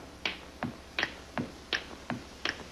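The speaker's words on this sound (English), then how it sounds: "Would you show me how you snap your fingers, because nobody else does it the way that you do?" Someone snapping his fingers in a steady, even rhythm, seven crisp close snaps spaced roughly a third of a second apart, alone without talk.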